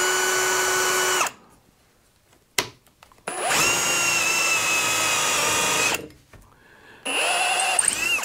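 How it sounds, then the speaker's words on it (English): A power drill bores holes in wood while building a wedge stand, whining in two long bursts and a third short run, separated by quiet pauses with a brief clunk. "once I finish drilling the holes here"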